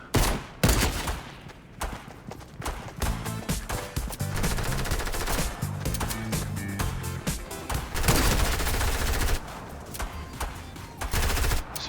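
Thompson machine gun firing in Fortnite, long rapid bursts of automatic gunfire with short gaps, loud and dense over in-game sound with no talk.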